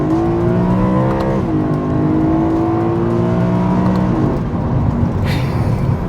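A BMW M car engine revs hard and loud, a smooth rising howl that climbs, drops briefly, then climbs again in a sustained high-rpm wail with no talking.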